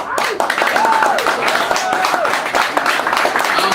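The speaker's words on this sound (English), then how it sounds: "Clap it up if you love your life" A crowd at a poetry open mic claps and cheers in a steady, dense wash that lasts throughout, with voices mixed in.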